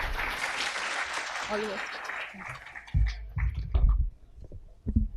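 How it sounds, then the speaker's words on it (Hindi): Applause from an audience at a Hindi poetry event on a campus stage, a short burst of clapping that fades into a host's voice speaking over it. "पहले संध्या के लिए एक बार ज़ोरदार तालियां हो जाएं।"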